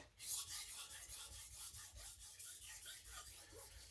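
A knife blade rubbed over an Atoma diamond plate with light pressure, giving a steady close raspy scraping in repeated strokes, no voices.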